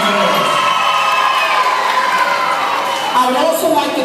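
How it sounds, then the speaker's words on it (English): A graduation audience at a Brooklyn ceremony cheers and whoops loudly, with children shouting amid steady crowd noise and some clapping, sustained throughout. "Ms. Gracia, let's give her a round of applause."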